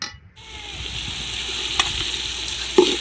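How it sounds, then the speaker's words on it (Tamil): Ginger garlic paste sizzles steadily in a hot pan while it is sautéed for a country chicken curry. The frying hiss is close and continuous, with a couple of sharp spoon clinks against the pan. "இஞ்சி பூண்டு நல்லா பச்சை வாசனை போகும் வரைக்கும் நல்லா வதக்கிக்கிடுவோம்"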